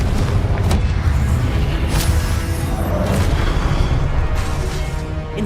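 A Confringo blasting spell from the video game Hogwarts Legacy, a dense, loud, continuous roar of booming explosive bursts with sharp cracks spiking through a heavy low rumble.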